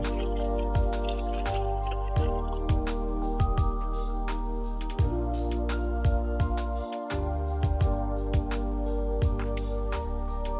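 Coffee running from a QF-CM802 capsule coffee machine made for hotel use, a steady close trickle with dripping over a constant mechanical hum, no talk.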